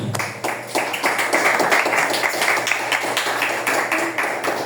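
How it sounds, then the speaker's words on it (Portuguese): Congregation at a church service claps for Jesus, a steady run of many overlapping handclaps with some rhythmic unison beats, fairly close and sustained throughout. "na linda salva de palmas para Jesus."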